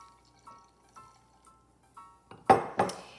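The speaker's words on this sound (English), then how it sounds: "next step is we're gonna pour some into our wine glass" Pumpkin spice sangria poured from a glass pitcher into a wine glass, with a few soft clinks of glass followed by two short, louder splashing pours near the end, close and with no talking.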